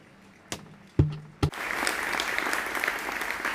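A gala audience breaks into loud, sustained applause for the president of Hispano Suiza after a few sharp thumps, the clapping dense and steady through to the end.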